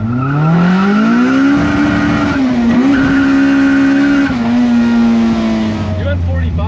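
A Honda CRX with a B18 engine driven hard, the engine note rising and holding loud from inside the car, pitch dipping briefly at gear changes and falling off near the end, with talk underneath.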